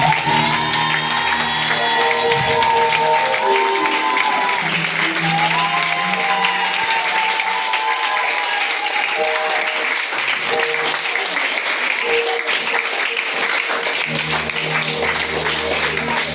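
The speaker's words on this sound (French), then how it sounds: "Je suis sûr que tu as bien applaudi comme ça." Church congregation applauding and cheering at a prayer and certificate-of-honour ceremony, sustained loud clapping with scattered shouts and whoops, musical tones and voices running underneath throughout.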